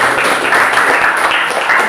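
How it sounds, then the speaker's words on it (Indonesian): Applause for the group 3 representatives during a classroom lesson, a steady, dense patter of many hands clapping together that holds at an even level for two seconds with no break. "tepuk tangan dulu buat perwakilan kelompok 3"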